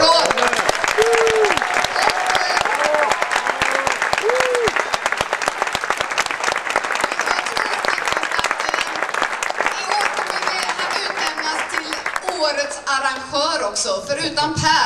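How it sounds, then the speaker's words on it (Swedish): Audience applause fills a concert hall at the closing ceremony of a percussion festival, loud steady clapping from a large crowd sustained for about twelve seconds before thinning out. "En stor applåd!"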